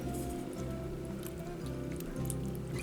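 Thick salsa is poured from a jar into a pot of winter salsa chili with white and regular chili beans, a wet squishing glug and drip that continues steadily up close.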